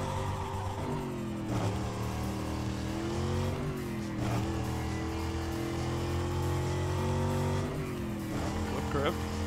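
Plymouth Roadrunner engine in Need for Speed: Carbon gives a steady, loud, roaring drone that rises and falls in pitch with a few revving swells, heard with some talk over it.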